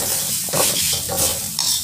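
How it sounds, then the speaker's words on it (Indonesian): Cooked rice being stirred into fried spice paste in a pan for tempe-seasoned nasi goreng, close scraping and rustling of a spatula over a soft steady sizzle, in short repeated strokes. "Bila bumbu sudah matang atau masak, lalu kita masukkan nasi dan kita aduk."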